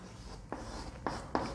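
A few short, scratchy strokes of writing on a board in a chemistry class, three distinct marks over a steady room hum.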